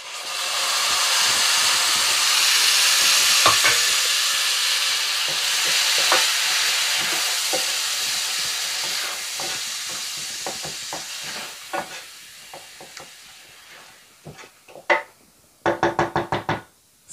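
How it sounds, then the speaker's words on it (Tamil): Ground onions and curry leaves hit hot oil for mutton kulambu, with a loud hissing sizzle that gradually fades. A spoon then scrapes and knocks sharply against the pan several times near the end. "ஸோ இதில் நான் அரைச்ச ஆனியன்ஸ் ஆட் பண்ணிக்கிறேன்."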